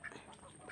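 Domestic ducks on a farm quack twice in quick succession, close and clear, with faint background noise and no talking.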